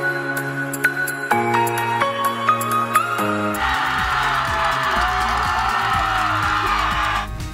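A high school football game's student cheering section, Tiger Cage, where a few seconds of tuneful music give way to a loud, sustained wash of crowd noise that continues to the end.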